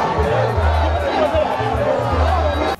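Large crowd at a Bobi Wine rally in Mayuge, a loud sustained roar of many voices and cheering with rhythmic low thumps beneath, cutting off abruptly at the end.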